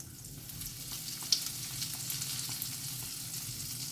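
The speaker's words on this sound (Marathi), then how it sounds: "सो तेल तापलेलें आसा आतां घालता हांव जिरा सासवां" Cumin and mustard seeds dropped into hot oil give a steady, bright crackling sizzle with small pops, close up and continuous, with no talking.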